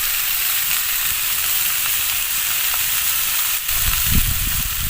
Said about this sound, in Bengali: তারপরে এবার ভালো করে নাড়াচাড়া করে ঢাকা দিয়ে দিয়ে আমি আলু ফুলকপি ভালো করে ভেজে নেব।